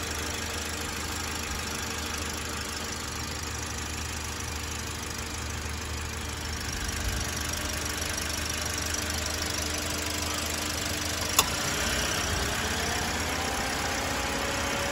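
A new 2022 Perodua Alza with a 1.5-litre timing-chain engine and automatic transmission idles steadily up close, a smooth even hum with a faint ticking and one brief click partway through.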